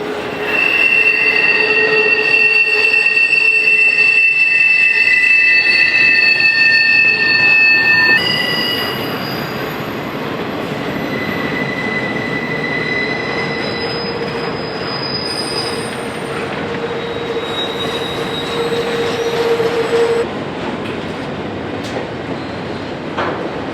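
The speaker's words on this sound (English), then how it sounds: "this morning's IO10 has more than a fair share of trailers on flat cars." The IO10 piggyback freight, trailers riding on flat cars, rolls past with loud, sustained high wheel squeals that shift pitch and fade, over a steady rumble of railcars, with no voices.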